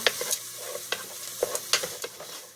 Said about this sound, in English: And give that a stir just to kind of coat it a little bit